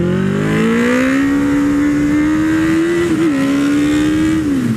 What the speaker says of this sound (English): That was a good wheelie.